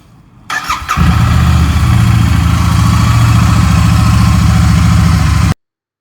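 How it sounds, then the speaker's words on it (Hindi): A motorcycle engine cranks and catches, then settles into a loud, steady idle as it warms up, close by with no talking, cutting off abruptly at the end. "बाइक का वार्म अप करते हैं और निकलते हैं जल्दी से।"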